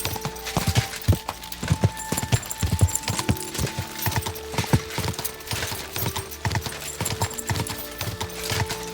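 A horse's hooves clip-clop in a steady, close rhythm in Kingdom Come: Deliverance II, with a faint tonal background underneath.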